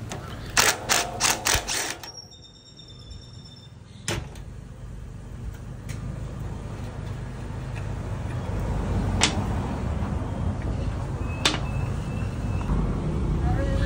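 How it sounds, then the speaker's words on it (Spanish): Screws holding an omega-type clamp being removed from a concrete mixer during a pinion change, with a quick run of sharp metallic clicks at the start, then a low steady hum broken by a few isolated clacks. "Aquí voy a retirar estos tornillos que sujetan esta abrazadera como tipo omega."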